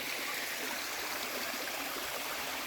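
Small waterfall on the Chéran river, a steady, loud, continuous rush of falling water heard close by and alone, without pauses.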